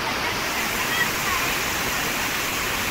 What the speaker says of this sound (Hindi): ये ऊपर से देखो पानी का फोर्स आ रहा है